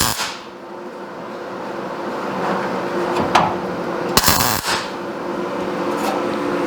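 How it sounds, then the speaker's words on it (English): Tack welds joining two pieces of steel plate on a custom hood build for a 1951 Chevy rat truck, heard as short crackling bursts and sharp pops over a steady buzzing hum, fairly close and loud. "so now I can tack my two pieces together."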